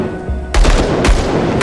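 Pistol gunfire from the Xbox Series X version of the action RPG Grim Dawn: loud, close shots crack in quick bursts over a low droning game backdrop, the shots cutting in sharply partway through.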